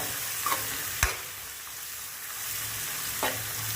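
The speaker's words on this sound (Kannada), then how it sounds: "ಸಬ್ಸಿಗೆ ಸೊಪ್ಪನ್ನ ಎಣ್ಣೆಯಲ್ಲಿ ಸ್ವಲ್ಪ ಹುರಿಯೋಣ" Chopped dill leaves fry in oil for upma, giving a steady close sizzle broken by a few sharp stirring scrapes against the pan. No one speaks.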